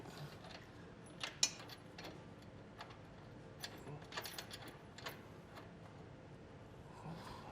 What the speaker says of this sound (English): you can grab a ratcheting wrench and just kind of snug it